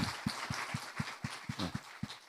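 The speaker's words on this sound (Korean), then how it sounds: "우리 하나님께 영광 박수 올립니다" A church congregation at a Tuesday prayer meeting claps in unison, a steady rhythm of about four firm, evenly spaced claps per second, moderately distant and with no voices over it.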